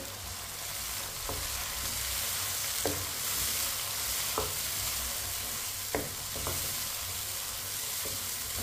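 Chopped tomatoes and four green chilies cut into large pieces fry in a pan for aloo gobhi. A constant close sizzle runs throughout, broken by several short scrapes of a stirring spoon.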